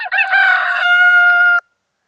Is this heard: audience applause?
no